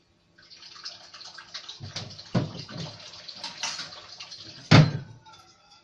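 Water running from a kitchen tap while chicken breasts and blender pizza are prepared, a steady broadband rush with a few clattering knocks and a sharp bump near the end.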